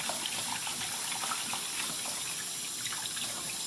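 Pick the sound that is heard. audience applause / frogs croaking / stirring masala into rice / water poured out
water poured out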